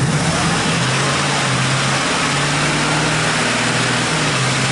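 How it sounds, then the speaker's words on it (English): A 2008 Ford F150 pickup with a shifting fault drives in gear, its engine droning steadily and close with slight rises and dips in pitch, loud and continuous without talk. "Now put in drive and let's hear it shift."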